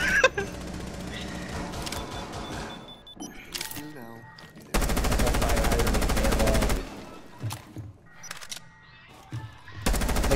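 Gunfire in Rainbow Six Siege, with bursts of automatic fire, several loud sustained volleys and scattered single shots, interleaved with game clicks and a player talking.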